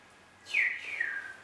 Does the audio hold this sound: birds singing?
yes